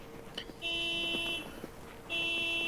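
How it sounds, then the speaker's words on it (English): Car alarm sounding outdoors, heard faintly from indoors: a repeating electronic tone in two sustained bursts with short chirps between, over a low background hum, with no speech over it. "Is that a car alarm?"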